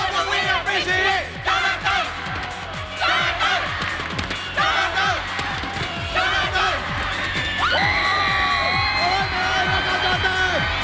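Fans cheer and whoop loudly at the Singapore Idol 2006 finale, a dense, sustained crowd roar with scattered shouts and yells rising and falling throughout.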